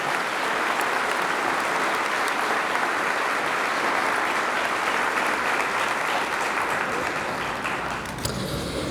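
Sustained applause from a large audience at a high school class day graduation ceremony honoring students, a dense even wash of clapping that holds for nearly nine seconds before easing slightly at the end.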